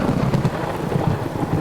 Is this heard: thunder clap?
yes